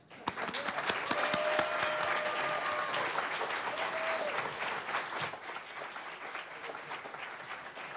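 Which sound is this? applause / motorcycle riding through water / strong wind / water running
applause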